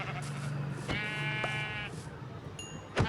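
Sheep bleating in the Minecraft video game, a single drawn-out, wavering bleat rising clearly over a steady low background hum, with a short game sound effect following.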